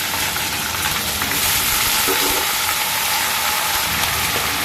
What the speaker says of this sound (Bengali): কড়াইতে তেল দিয়ে দিয়েছি দিলাম একটু কালো জিরে ফোড়ন